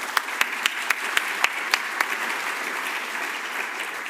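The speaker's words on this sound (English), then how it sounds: "let's give the panelists a round of applause" A conference audience applauds the panelists at a construction design talk. Crisp, regular claps stand out for the first two seconds over a steady bed of clapping, which then settles into a softer, even patter.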